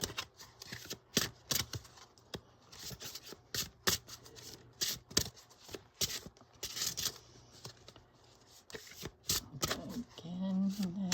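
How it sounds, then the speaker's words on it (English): An awkward-to-shuffle deck of cards riffled and shuffled up close in repeated crisp bursts of flutter and snap, with a voice briefly speaking near the end. "These are definitely awkward to shuffle"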